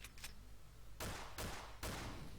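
Gunfire in the video game Garry's Mod: after faint early clicks, three loud, broad blasts crack out about half a second apart, each fading briefly, with no talking over them.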